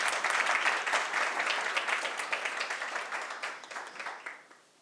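An audience at a Teachers' Day awards ceremony claps together for the award recipients, starting loud and full and then thinning out and fading away as the applause winds down.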